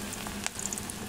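Potatoes fry in hot oil with cumin and a chili, giving a steady soft sizzle with a few brief crackles and pops over roughly a second.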